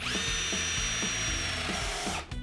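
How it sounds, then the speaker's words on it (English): A power drill turns a 25mm spade bit into timber for dowel knob holes, a steady, loud, high whine with a faint rhythmic low thump, cutting off near the end. "I'm drilling out the position of our timber dowel knobs, and to do that I'm using a 25mm spade bit"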